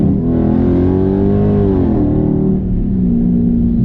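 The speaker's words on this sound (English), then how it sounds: "Then you gotta downshift, downshift, downshift." A Dodge Charger 392 V8 roars loud and close in a continuous rumble, its pitch dropping and rising as it downshifts through paddle shifters, with no talk over it.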